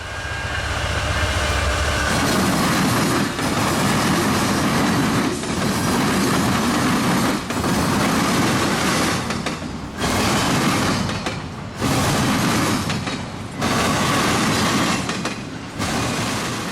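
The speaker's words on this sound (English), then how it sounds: "wheels over the brand new double diamond slam in perfect rhythm" Wheels of NS 209, an Atlanta-to-Jacksonville freight, slam over a brand-new double diamond rail crossing in loud, rhythmic bursts, repeated groups of heavy clacks close by over a continuous rumble.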